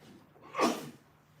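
A single short sneeze bursts out during a recreation board meeting, quiet and somewhat distant, rising and fading within about half a second against a low background hum.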